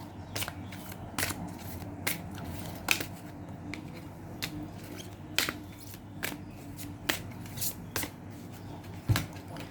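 Tarot advice cards being shuffled by hand, a steady run of soft papery riffles and sharp flicks at irregular intervals over a quiet room, close and fairly faint with no talking.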